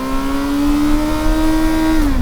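A 2024 Kawasaki Versys 1000 S pulls hard in first gear, its engine note climbing steadily in a loud, close, continuous rising whine before easing off at the end.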